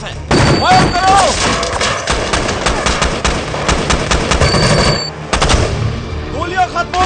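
Rapid automatic gunfire from a military action movie, loud and dense bursts that run almost continuously, with a brief break before the shooting resumes. Shouted voices and a rumbling score sit underneath.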